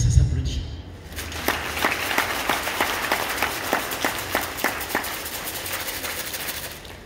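An audience claps rhythmically in unison, a steady series of sharp, evenly spaced claps over a background crowd murmur that fades out toward the end.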